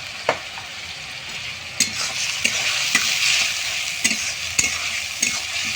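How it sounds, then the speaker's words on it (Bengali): Stirring ground coriander and cumin into chicken for biryani, a spoon scraping through the spices with a soft sizzle beneath and regular clacks against the pot, close and without voices. "এবং নেড়ে নেবো একটু ভালো করে।"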